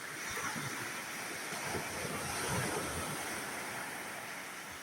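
Sea waves at a beach in Hinudayan, Leyte wash and break in a continuous broad rush, swelling and easing slightly, close and steady with light wind noise and no voices.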